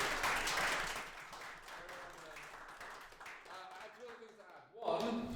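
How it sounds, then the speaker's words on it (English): An on-site audience at a JavaScript tech talk gives a round of applause, clapping that swells and then thins, while a presenter talks over it. "round of applause and a big hello from the entire on-site community here."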